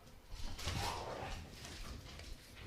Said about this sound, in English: I'm listening to the dogs go wild